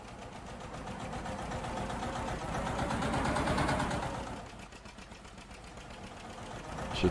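A John Deere 730 diesel tractor engine with a custom sound idles steadily with a low, chugging mid-range drone that swells slightly in the middle, then eases back, and stays close and continuous throughout.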